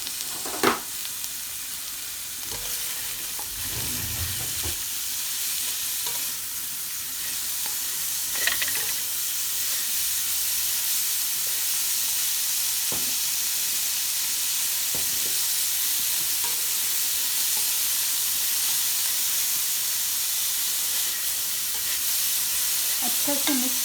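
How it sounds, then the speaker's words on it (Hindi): Chicken spring roll filling being stirred in a hot pan, with a steady broadband sizzle and hiss running throughout and occasional spoon scrapes and clinks over it. "अब हम इसे अच्छे से मिक्स करेंगे।"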